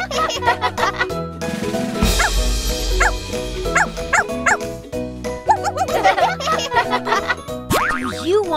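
A cartoon dog barks a few times within a bouncy children's nursery song, the yaps set over steady music with a childlike singing voice.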